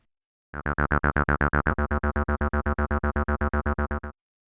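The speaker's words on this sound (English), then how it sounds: "we'll probably pick the square waveform" A buzzy square-wave synth bass pulses in a steady, rapid string of identical notes for several seconds, then stops.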